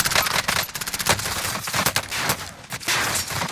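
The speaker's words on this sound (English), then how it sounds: "Oh, he's getting shot from the building." Heavy gunfire in a Call of Duty Warzone solo match, with a player shot at from a building. Rapid automatic bursts rattle loud and close, mixed with single cracks, and brief gaps separate the volleys.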